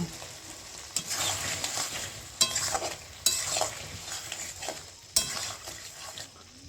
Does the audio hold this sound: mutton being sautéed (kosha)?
yes